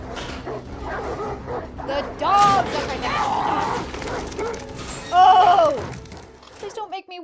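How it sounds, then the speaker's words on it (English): Dogs bark, yip and whimper in a tense scene from The Last of Us, with repeated close barks and whines over music and other sounds, and people talking and reacting loudly over them. "That's right, that's the dogs."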